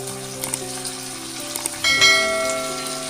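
Turmeric, cumin powder and salt sautéing in hot oil for a rohu fish curry, a soft continuous sizzle with light metallic clinks that swells louder partway through.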